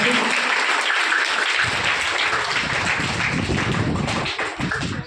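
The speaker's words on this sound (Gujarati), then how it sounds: "એકવાર જોરદાર તાળીઓ છે" Loud, sustained applause from an audience at a primary school Mother Language Day celebration, dense clapping filling the whole stretch and thinning slightly toward the end.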